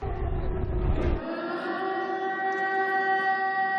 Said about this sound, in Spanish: Por eso vuelven a sonar las sirenas ante el riesgo de nuevos ataques.